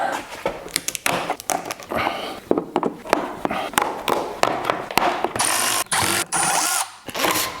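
Screws are worked out of a plastic cover on a BMW E39 wagon during rear brake line work, a tool ratcheting in quick repeated clicks with sharp knocks and a brief whirring run, close by and without speech.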